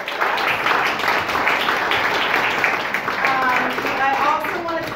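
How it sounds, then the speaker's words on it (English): Audience applauding volunteers at a community discussion series on segregation and housing justice, with loud, continuous clapping from a crowd and a voice rising over the applause near the end. "Can we give them a round of applause?"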